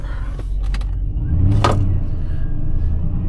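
A 2004 Mercury Marauder pulls away, its engine rumbling deep and steady as it builds briefly under load, heard from inside the car with no talking.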